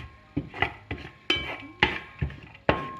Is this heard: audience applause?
no